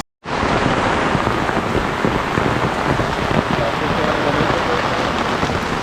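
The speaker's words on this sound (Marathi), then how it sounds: "नेमका पाऊस आला" Heavy rain pours steadily at Kondeshwar waterfall near Badlapur, a dense, loud, continuous hiss of drops on surfaces and foliage that starts abruptly and holds unbroken throughout, with no voices heard.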